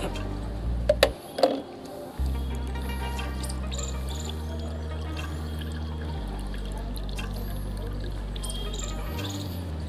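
Reddish liquid fertilizer made from banana peels strains through a sieve, giving a steady, continuous trickle and pour with a faint clink near the start.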